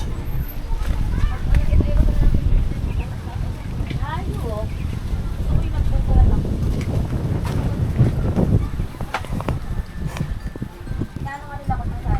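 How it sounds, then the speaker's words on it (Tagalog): Gusty wind buffets the microphone throughout, with people talking over the rumble. "Kasi malakas naman ang hangin."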